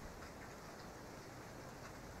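Rain in the horror video game Outlast 2 falls as a faint, steady hiss, a dense even patter with no other distinct sounds.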